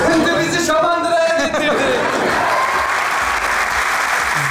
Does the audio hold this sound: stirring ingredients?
no